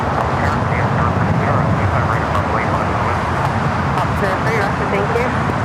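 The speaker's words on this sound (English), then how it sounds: "We now have the DHL 777 freighter touching down" A DHL Boeing 777 freighter arriving from Anchorage touches down at LAX, producing a loud, steady, broadband jet roar that fills the whole stretch without a break.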